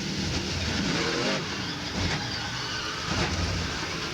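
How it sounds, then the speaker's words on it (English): In-car audio from Jimmy Johnson's stock race car at the 2000 NASCAR Busch Series Cheez-It 250, with a loud, droning engine and wind roar that surges and dips as the car works through traffic and no voices. "That's Jimmy Johnson's all-tell race car we were riding along with"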